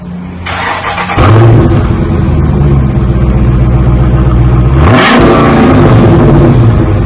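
A 2017 Dodge Challenger ScatPack with its stock exhaust fires up, then settles into a loud, close idle and gives one sharp rev near the end, a deep rumble that rises and falls back.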